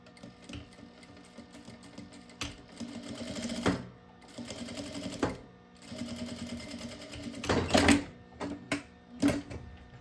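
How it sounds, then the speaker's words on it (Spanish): Sewing machine stitching a side seam with a half-centimetre allowance on fabric for an interchangeable needle case, heard in several short bursts of rapid whirring with pauses and handling clicks between them. "coses un lateral con un margen de costura de medio centímetro"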